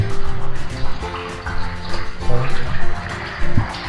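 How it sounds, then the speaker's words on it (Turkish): Water drips from the ceiling into a carved rock cistern inside a cave, falling as irregular plinks and splashes that echo in the chamber. "yukarıdan damlayan sular burası bir su sarnıcına çevirmiş"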